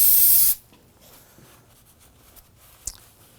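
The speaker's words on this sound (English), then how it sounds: "use some spray solvent to clean up any of that residual brake fluid" Spray solvent bursts from an aerosol can onto a Ford Focus front brake hose fitting to clear residual brake fluid, a loud hiss lasting about half a second, then quiet handling noises and one faint tap.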